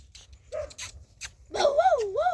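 Wild dog puppies found in a forest give a few faint yips, then close, wavering high whimpers and whines.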